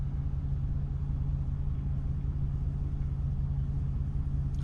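An old engine idles steadily at about 600 RPM, producing a low, even rumble with a constant hum and no rise or fall, close and moderately quiet.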